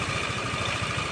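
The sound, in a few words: Yamaha NMAX scooter engine idling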